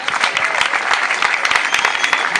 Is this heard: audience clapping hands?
yes